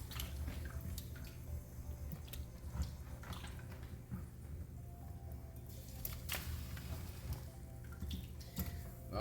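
Water running and splashing as food is washed in a pot, a steady low wash with scattered drips and clinks, fairly quiet and continuous throughout.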